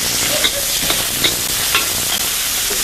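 Chili lobster ingredients sizzle loudly in a hot wok, a dense hiss punctuated by several quick metallic scrapes and tosses as they are mixed, close and without speech.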